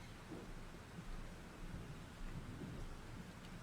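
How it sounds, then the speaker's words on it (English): Thunderstorm in the video game Life is Strange: heavy, even rain roars with low rumbling thunder underneath, dense and continuous throughout, no voices. "the storm is starting. This storm is real."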